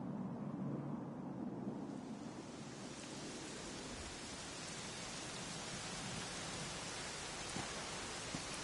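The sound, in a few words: rain falling, from video game Dragon Quest XI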